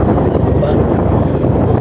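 Strong wind roars steadily and loudly against the microphone, a constant low rumbling buffet with no pauses.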